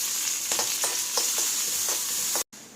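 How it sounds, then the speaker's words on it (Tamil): Mustard seeds, chana dal, curry leaves and grated ginger tempering in hot oil, giving a continuous bright sizzle with soft periodic stirring scrapes and a very brief dropout near the end, no speech. "கடுகு வெடிக்கும் போதே கொஞ்சமாக கடலைப்பருப்பு சேர்த்துக்கிறேன்."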